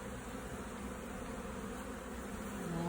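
Bees swarming from an observation hive, a dense continuous droning buzz of many insects close by, steady and unbroken, swelling slightly at the end.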